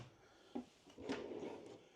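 A soft-close drawer in an RV desk slides shut, a faint muffled wooden thump followed by a gentle damped glide, quiet and close with no talking.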